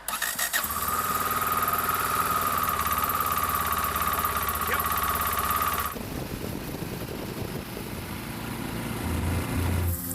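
A motorcycle engine running in extreme Siberian cold, a steady loud drone with a thin whine on top, shifting to a rougher, lower idle after a few seconds, with a voice briefly audible.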